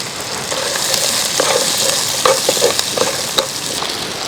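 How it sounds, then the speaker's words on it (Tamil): Small onions and tamarind sautéing in a pan for bitter gourd masala, a constant dense sizzle with scattered light scrapes and taps of a spoon stirring, close and loud, no talking. "இப்போ இது கூடவே புளியும் சேர்த்து ஒரு வதக்கு வதக்கலாம்"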